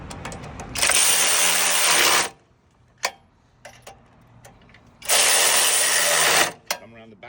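A locking bolt at the center of an I-beam clamp is tightened with a ratchet, giving two long bursts of fast, loud clicking separated by a few sharp taps, with no talking.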